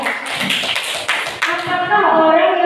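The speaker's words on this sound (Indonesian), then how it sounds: "Tepuk tangan untuk Gadeh dulu ya." Short, close applause of hand claps rises at a leadership seminar as the audience claps, mixed with a speaking voice, then settles into a sustained tone toward the end.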